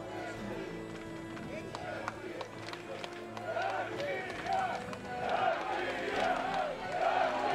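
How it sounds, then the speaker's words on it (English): A Battle of the Nations medieval combat tournament crowd, rising cheers and chanting shouts from a large audience that build louder toward the end, with a commentator speaking over them. "the crowd get going."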